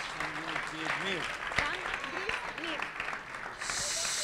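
Audience applause for a speed-racing robot at a robotics competition, a steady patter of clapping under a voice, ending in a louder, denser burst.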